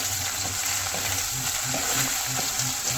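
Mustard seeds, cumin, chopped onion and curry leaves sizzle and crackle in hot oil while being stirred for a home-style brinjal curry, a steady close frying hiss with soft stirring thuds underneath.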